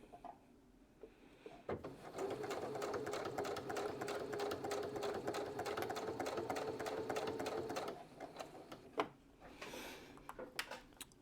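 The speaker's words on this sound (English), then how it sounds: "This, my serger, I think it's from like mid or late 90s." A serger overlock sewing machine from the mid or late 1990s runs in one steady whirring, rapidly stitching burst of about six seconds, bracketed by a few faint clicks and handling sounds.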